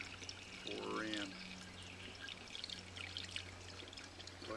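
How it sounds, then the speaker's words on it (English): Fruit juice pours from a bottle into a jug for making hard cider, a short gurgling stream that swells and then trickles, set against a steady low hum. "Pour in."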